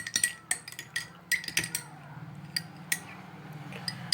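Spoon clinking against a glass while stirring water sprinkled with ground black pepper, a quick run of sharp, close taps and chimes that thin out into occasional single clinks over a quiet kitchen background.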